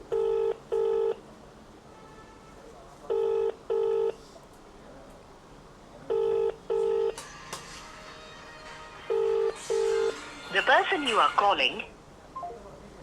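Repeated double-pulse phone ringback tone while customers of a pre-owned bike dealership are being called, four paired bursts evenly spaced and clear, followed near the end by a brief burst of other sounds.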